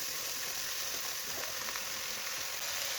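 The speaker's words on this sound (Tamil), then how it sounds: "பொடி பொடியாக அரிஞ்சு வச்சுருக்க சொரக்காயை நம்ம இதில் ஆட் பண்ணிக்கிறோம்." Finely chopped bottle gourd (sorakkai) sizzles steadily in a hot pan for a Tamil Nadu-style kootu, a continuous close, loud frying hiss with faint stirring scrapes.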